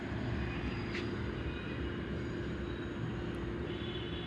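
A metro train pulls away, a steady loud rumble of wheels and motor filling the whole stretch without a break.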